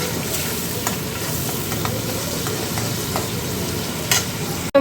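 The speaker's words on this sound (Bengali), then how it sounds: "এবার মশলাটা একটু ভালো করে কষে নেব।" Spice paste with cumin, green chilli, salt and turmeric fries in oil in a pan, a loud, constant sizzle broken by occasional spatula scrapes and a brief clatter at the end, heard close with no talking.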